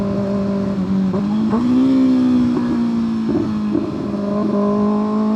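A 2025 Kawasaki ZX-6R sport motorcycle's loud aftermarket exhaust revs repeatedly, its pitch rising and dipping in quick bursts, close by with no voices.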